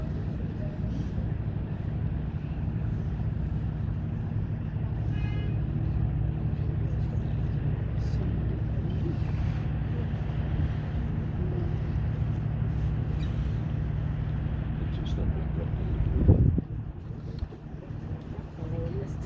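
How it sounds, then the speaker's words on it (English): Cruise boat sailing along Lake Windermere, a steady low engine drone with wind noise across the microphone, heard up close throughout and broken by a brief bump near the end. "As we sail along the lake"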